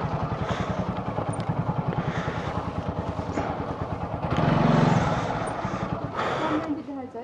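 A motorcycle engine idles and revs close by in a traffic setting, a steady throbbing rumble that swells briefly midway, with someone talking over it.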